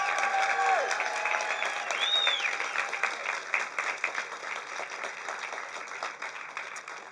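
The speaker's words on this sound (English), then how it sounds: "can we have one more good round of applause for each of these veterans and the organizations that have been honored?" Audience applause at a veterans' recognition ceremony: a sustained round of clapping from a crowd, steady and fairly loud before gradually thinning toward the end, with faint whistle-like tones early on.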